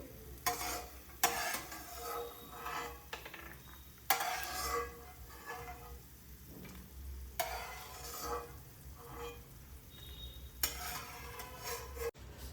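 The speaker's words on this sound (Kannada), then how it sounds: "ಕಡಲೆ ಬೀಜನ ಚೆನ್ನಾಗಿ ಹುರ್ಕೋಬೇಕು" Peanuts roasting in a pan for mango rice, stirred with a spoon: soft scraping and rattling strokes come in repeated bursts over a faint, steady sizzle, with no voices.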